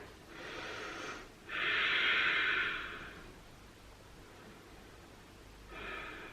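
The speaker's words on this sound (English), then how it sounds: "Take nice deep breaths down here." Slow deep breathing from a woman resting in child's pose during a pre- and postnatal workout: a long, loud exhale swells in the middle, with softer breaths before and after, close and quiet with no talk.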